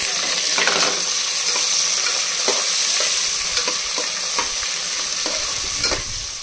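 Sliced onion sizzles steadily in hot oil with peanuts, bay leaf and curry leaves for a Khandeshi khichdi tempering, close and loud, broken by regular scraping stir strokes.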